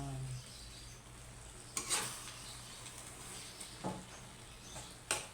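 Bringhe, a Filipino rice dish, is stirred and fried in a pan, giving a soft steady sizzle broken by a few scraping stirs of the spoon, close and quiet, with no voices.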